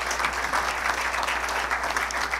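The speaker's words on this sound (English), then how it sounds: "I think the Lancaster Farmland Trust deserves a round of applause" A Rotary Club audience gives a round of applause for the Lancaster Farmland Trust during a talk on population growth and land use in Lancaster County, with steady, moderately loud clapping from a roomful of people and a low hum underneath.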